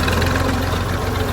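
A tractor engine idling nearby, a loud, steady low rumble with a throbbing pulse through a brief stretch and no voices.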